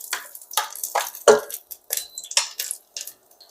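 Chopped vegetables clatter and scrape in a wok with grapeseed oil as they are tossed. The bursts are irregular and close, separated by brief near-silent gaps, and no sustained sizzle is heard.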